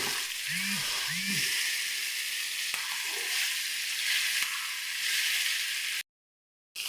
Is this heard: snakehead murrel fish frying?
yes